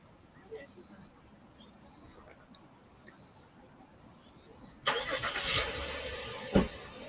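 A car engine cranks and starts nearby, a burst of noise rising after several seconds of quiet ambience with faint chirps, followed by a brief louder thump.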